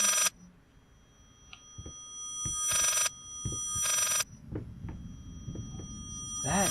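Eerie reversed telephone ringing in the horror video game Layers of Fear, with three loud swelling bursts of ring separated by low throbbing, heartbeat-like thumps and a steady hum.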